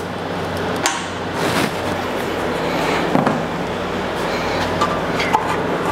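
Caliper mount bolts being removed from the rear brakes of a Lexus GX470, with metallic clanks and tool knocks over steady background noise; no speech.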